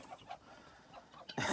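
A meat chicken sitting on a scale gives a few soft, close clucks, followed by a sudden burst of rustling noise at the end.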